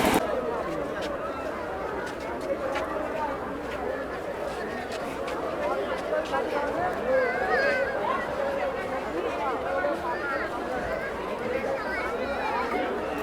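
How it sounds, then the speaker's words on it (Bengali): Dense crowd chatter and babble fill a packed local train running from Kolkata to Digha, a steady, close murmur of many voices with movement noise underneath, continuous throughout with no single voice standing out. "দেখো মানে জাস্ট একটা লোকাল ট্রেনের ভিড় এটা"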